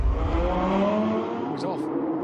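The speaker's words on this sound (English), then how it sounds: "Finally, it was the turn of the Lambo's V10." A Lamborghini V10 engine revs loudly and close by, a strong sustained roar with rising tones, while voices talk over it.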